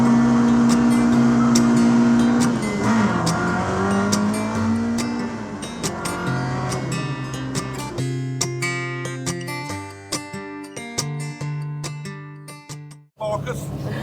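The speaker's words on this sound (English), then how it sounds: "we've got cool cars going past as well" Classic Ford cars pass a lay-by, engines droning and revving loudly close at hand, with a steady motor hum giving way to clattering mechanical noise, under a person talking.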